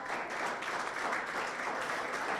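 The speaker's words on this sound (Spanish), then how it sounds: "Dele un aplauso al Señor" A church congregation applauds during a Spanish-language sermon, a dense, sustained wash of many hands clapping at once, steady and fairly loud throughout with no voice rising above it.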